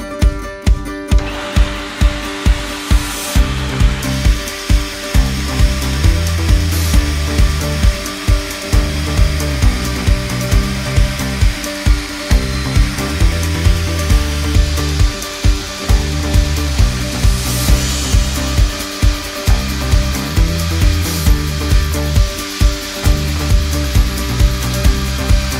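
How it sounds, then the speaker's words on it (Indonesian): A power drill mounted in a drill stand whines steadily at length, its motor droning and stuttering in repeated pulses as it bites into a 3 mm metal plate, loud and close. "Langsung kita tes untuk mengebor plat 3 mm."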